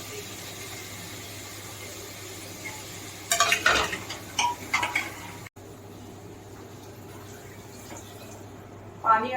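Three tomatoes frying in a pan, with a quiet background sizzle and a few short bursts of a spoon scraping and stirring against the pan midway.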